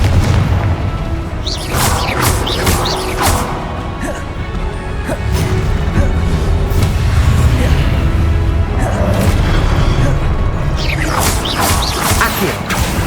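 Blasting-spell explosions from the Confringo curse during a boss battle in the Hogwarts Legacy game, heavy booms and crashes layered over a dense, constant roar of battle effects and music, with bursts recurring every few seconds.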